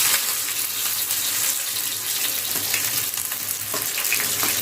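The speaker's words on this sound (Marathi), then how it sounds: "तेल छान गरम झालेलं आहे. थोडंसं आपण घालूया यामध्ये लसूण, आणि लगेचच आपल्याला यामध्ये घालायचा आहे कांदा." Garlic and onion fry in hot oil with a loud, dense, continuous sizzle and crackle close up. Now and then the pan is stirred.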